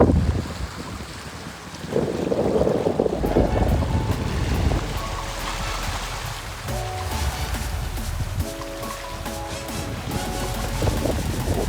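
Strong wind buffets the microphone on an open Red Sea beach in Sharm El Sheikh, Egypt, gusting and roaring continuously, with waves faintly washing in underneath.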